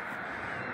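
Near a meadow by a churchyard footpath in the English countryside, a bird gives a short, hoarse, caw-like call, brief and moderately loud over steady outdoor background noise.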